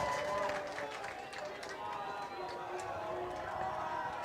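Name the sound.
football homecoming crowd cheering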